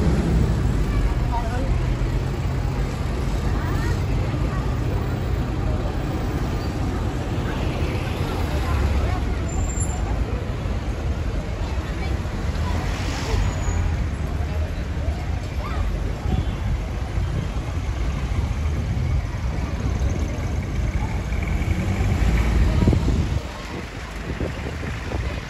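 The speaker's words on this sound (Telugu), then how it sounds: "ట్రాఫిక్ అయితే ఇలా ఉంటుంది." Street traffic in Asmara, Eritrea, forms a steady, unbroken wash of road noise with wind buffeting the microphone and murmuring voices in the background.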